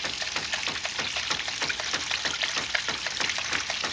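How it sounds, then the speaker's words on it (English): Water flowing along a man-made stream fed by a pipe from a homemade ram pump, a steady gushing, splashing wash heard close and fairly quiet, with no voices. "Man-made stream."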